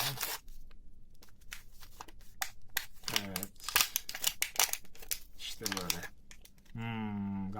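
A surprise egg toy's foil wrapper is torn and crinkled open, with sharp rustling bursts, tearing and a brief whirring near the end, all heard close up.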